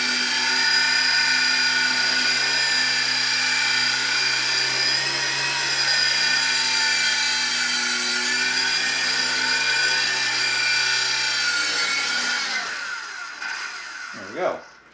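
An Estes C05502 3.5-channel RC helicopter flies close by, its rotor and motor giving a loud, steady high-pitched whine that holds constant, then drops and wavers as it winds down near the end.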